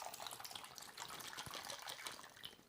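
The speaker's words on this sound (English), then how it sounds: "I'm gonna pour this in." A drink poured from above into a glass prepared with a lime and tahini rim, giving a steady, close splashing trickle of liquid that runs without a break and with no talking.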